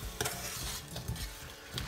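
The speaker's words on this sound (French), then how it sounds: "on va mélanger tout doucement" Spices being stirred slowly into a sizzling Tunisian pasta sauce in a pan, with steady frying hiss and soft utensil scrapes throughout, close and moderately quiet.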